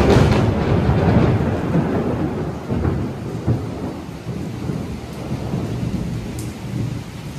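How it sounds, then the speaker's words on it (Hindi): Heavy rain pours down steadily during a storm, with loud low rumbles of thunder rolling underneath, strongest at the start and easing slightly, with no talk over it. "बिजली का आवाज सुन रहे हो। इतना तेज बारिश काहे हो रहा है।"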